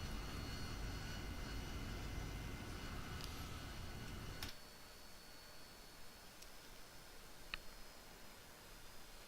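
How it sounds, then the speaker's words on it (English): An AV-8B Harrier jet taxiing in the DCS flight simulator, a steady broadband engine roar that drops to a quieter hum partway through, with a few faint ticks. "Cool looking plane, even when it taxis."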